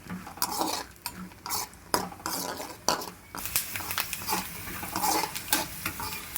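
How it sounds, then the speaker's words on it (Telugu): Peanuts fry in a pan for village-style chutney, stirred vigorously so they rattle and scrape against the metal in quick bursts over a continuous sizzle. "పల్లీలు ఇందులో వేసి బాగా వేయించుకోవాలండి, దోరగా వేయించుకోవాలి."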